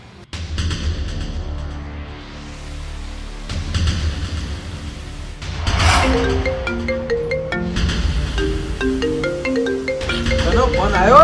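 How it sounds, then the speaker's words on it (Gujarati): An incoming call sets off a mobile phone ringtone during a Gujarati comedy skit, its bright melodic notes repeating in the second half over other sounds and voices. "એનો ફોન આવ્યો"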